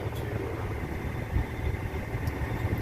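A farm tractor engine idling while hay fields are seeded, a steady low rumble close by at even level with slight fluctuations, no talking.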